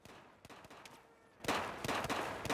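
Battlefield 4 gunfire, faint scattered shots at first, then a loud burst of rapid automatic fire with sharp cracks from about halfway, continuing in quick clusters until the end.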